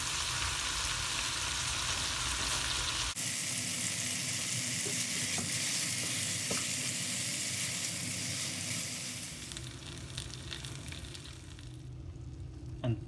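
Tandoori chicken pieces frying with green chilies in a pan, a steady crackling sizzle with occasional stir clinks, moderately quiet and easing off toward the end, no voices.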